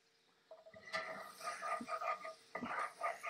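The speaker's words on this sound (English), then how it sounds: "I'm scraping up these pan drippings" A utensil scrapes pan drippings in a cast iron skillet with about three-quarters of a stick of butter melting for a mushroom topping, making faint, close metallic scraping and clinking in short bursts.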